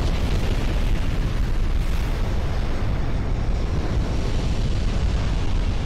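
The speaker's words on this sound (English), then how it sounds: "flash fire has erupted, the turrets are flying everywhere, and I think that ship is doomed" Ship explosion and raging fire in the naval warfare game Ultimate Admiral Dreadnoughts, a steady, dense roar of rumbling blast and burning noise filling the whole stretch without pause or voices.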